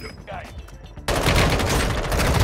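Gunfire in the mobile shooter Warzone Mobile, a quieter stretch with a voice giving way to a sudden loud, sustained burst of dense shots that fills the rest.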